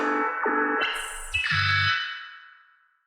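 Synthesized low-poly sound effect built in a music program and run through reverb: a few quick stepped tonal blips and chirps jumping in pitch, then a lingering echoing tail that fades out over the final second.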